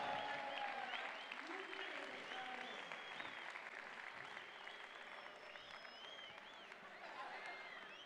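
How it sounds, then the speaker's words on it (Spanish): Audience applause for a prize winner at a Motorola stand-up event, a quiet, continuous wash of clapping with some voices and cheers mixed in, steady throughout. "Un aplauso a ella."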